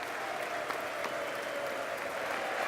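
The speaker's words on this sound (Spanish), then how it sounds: "El Congreso en pleno se puso de pie para ovacionar a este héroe, una ovación que duró más de 40 segundos." The full Congress on its feet in a standing ovation, a dense, steady roar of applause from a large crowd heard at some distance with no voices standing out.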